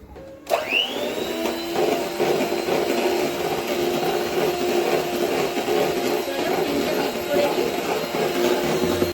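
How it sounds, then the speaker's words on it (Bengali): An electric beater whips cream for a cake in a home kitchen, a steady loud motor whine that spins up at the start and then holds an even, continuous drone with a constant pitch. "তো ইমার্জেন্সি, তার জন্য আমি ক্রিমটা বিট করে নিচ্ছি"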